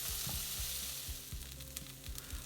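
Sliced onions cook slowly in a pan, a soft, fairly quiet sizzle with occasional nudges and scrapes of a utensil, no voices.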